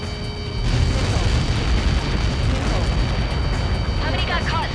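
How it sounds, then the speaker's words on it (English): A huge missile-impact explosion in the Ace Combat 7 flight game swells into a long, dense roaring rumble that fills the whole stretch, loud and sustained, with crackling debris toward the end. "How many got caught in that explosion?"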